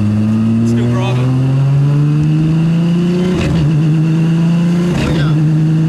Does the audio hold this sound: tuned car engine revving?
yes